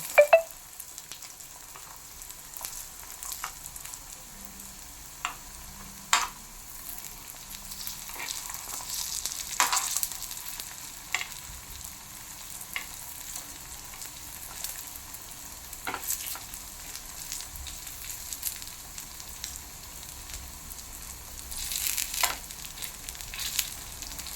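Sago snack frying in a pan gives a low, constant sizzle close by, broken by scattered scrapes and clicks as the pieces are turned and flipped throughout, with no talking.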